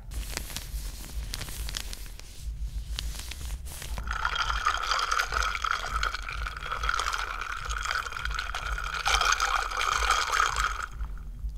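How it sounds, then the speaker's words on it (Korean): Ice clinks and rattles as a drink is poured alongside a fried chicken meal, with a bright trickling pour that runs steadily for several seconds after some quieter handling noises. "얼음소리 좋다."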